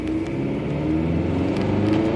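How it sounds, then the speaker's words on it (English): A 1996 Acura Integra accelerates with hesitation and misfire, its engine giving a steady, moderately loud revving drone heard from inside the car. "So I'm gonna press on the gas, right? And right now it's in drive, so you're gonna feel it."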